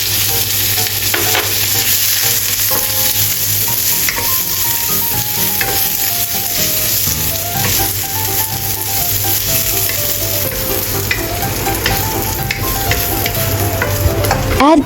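Vegan seafood tofu fries and is stirred in a hot pan, a steady loud sizzle running throughout with spatula scrapes and clinks layered on top; no voices.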